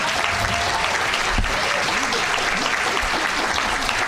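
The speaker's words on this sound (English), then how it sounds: "Would you please give Trustee Fong and Mr. Federle a round of applause?" An audience at a Board of Trustees meeting gives a round of applause, steady clapping that fills the room for several seconds, with a faint voice underneath.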